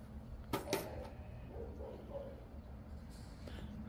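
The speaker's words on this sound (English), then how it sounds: "Who is she barking at?" Dog barks at a middle distance, two sharp bursts early, then faint yips, set outdoors over a low steady background hum.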